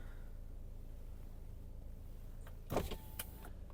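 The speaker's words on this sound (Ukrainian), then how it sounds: "Склопідйомники працюють." Hyundai Tucson power window motor running briefly after a quiet interior hum, a short whirring burst near the end with a faint thump as the glass stops.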